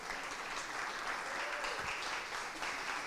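A church congregation claps steadily and loudly for about three seconds, a dense wash of applause with faint voices mixed in.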